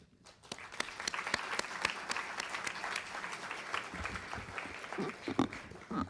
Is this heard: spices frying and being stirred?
no